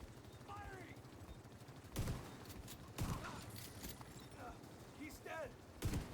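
Gunfire in The Division 2 crackles faintly, with a handful of sharp, separated shots over low battlefield noise, and soft voices chatter now and then in the background.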